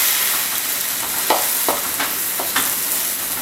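Lo mein noodles stir-frying with dark soy sauce in a hot pan, a continuous sizzle with several sharp bursts of stirring and tossing spaced about half a second apart, close and with no talk.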